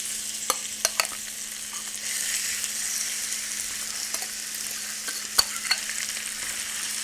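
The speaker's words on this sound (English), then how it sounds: "let's just add that into our skillet right now" Marinated chicken pieces fry in a skillet with a steady, close, bright sizzle, broken by a few sharp pops and clicks; no one speaks.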